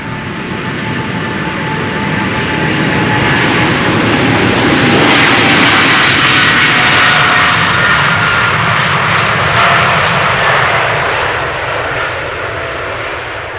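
A jet airliner departs runway 36L at Amsterdam Schiphol, its loud engine roar swelling to a broad peak and slowly fading as it climbs away, with no talk over it.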